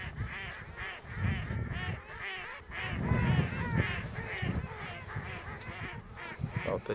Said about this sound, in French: On a un peu de mal à les faire chanter les oies.